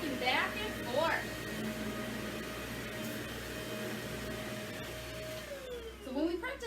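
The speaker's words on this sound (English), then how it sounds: "Push the vacuum back and forth." A vacuum cleaner drones steadily at low volume as it is pushed back and forth during a demonstration, its hum continuous beneath a voice speaking at the start and end.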